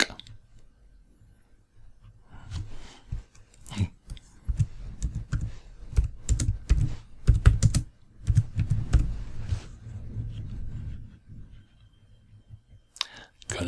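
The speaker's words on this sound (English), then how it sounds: "And you can just type something in." Bursts of typing on a computer keyboard, quick clusters of close key clicks with short pauses between them, fairly quiet, with occasional speech.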